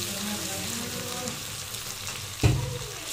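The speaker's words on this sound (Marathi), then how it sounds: "लसूण आणि अद्रक असं तेलामध्ये चांगलं फ्राय व्हायला पाहिजे" Garlic and ginger fry in hot oil with a steady close sizzle, and a sudden louder crackling burst comes near the end as more is stirred in.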